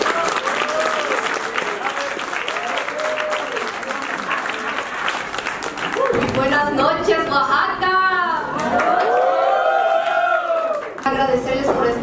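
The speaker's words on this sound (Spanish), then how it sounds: "Vamos a recibir con un fuerte aplauso para iniciar este noche de concierto" A concert audience greets a duo with loud sustained applause and crowd noise, which then gives way to a voice speaking over the fading clapping.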